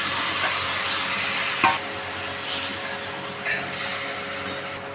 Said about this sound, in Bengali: এবার এটা পুরোটা খানিকক্ষণ আমরা কষিয়ে নেব।